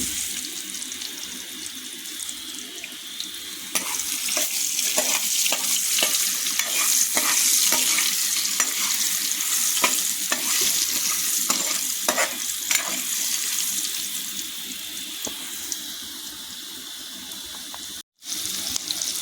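Onions fry in oil with turmeric and salt for a mutton curry, giving a loud, continuous close sizzle and hiss, with repeated scraping stirs against the pan and a brief break near the end.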